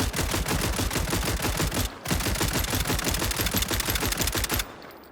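A Stribog submachine gun fires on a firing range in SCP: 5K, a loud, rapid, evenly spaced stream of shots broken once by a brief pause, then another long burst that stops near the end.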